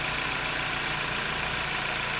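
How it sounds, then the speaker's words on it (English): A low-mileage LKQ replacement car engine of about 36,000 miles idles steadily, a close, even rumble with a faint regular pulse and no talking over it. "This is the LKQ engine I put in."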